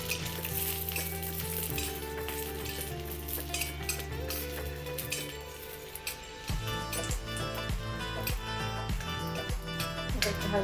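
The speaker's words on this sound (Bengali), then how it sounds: "তো রসুনগুলো হালকা করে ভাজা হচ্ছে, একটু লালচে করে ভেজে নেবেন" Garlic, with green chillies already added, fries in oil with a steady close sizzle and occasional stirring clinks, all under continuous background music.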